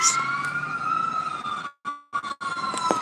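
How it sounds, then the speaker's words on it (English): A steady wailing siren rings out, fairly loud and continuous, cutting out briefly twice near the end before resuming. "That's a siren going on right now."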